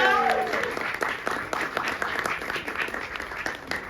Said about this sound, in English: One more round of applause, please, for this incredible team